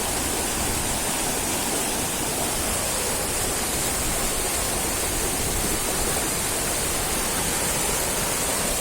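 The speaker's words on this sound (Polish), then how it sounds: "ten potoczek, który tu widzicie, normalnie jest strumyczkiem" Rushing mountain stream, the Bystry Potok, flowing from a quiet valley off the slopes of Kopa Biskupia, a steady broadband roar of fast water, close and continuous throughout with no voices.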